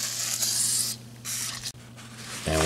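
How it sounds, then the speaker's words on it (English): WD-40 aerosol sprayed along the track of a sliding patio door in several hissing bursts, close and loud, with brief pauses between them and a clunk at the end. "and just spray along the track here and clean this out."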